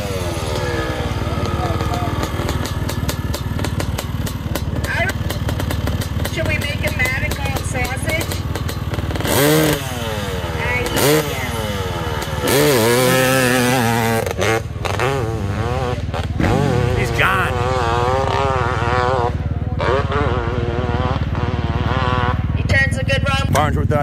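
Big-bore two-stroke dirt bikes, including a Honda CR500 and a KTM 500, race on a track. Loud, raspy engine howls rise and fall in repeated sweeps as the bikes rev and pass close by.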